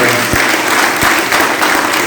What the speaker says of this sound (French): Il y a un bel applaudissement pour notre pasteur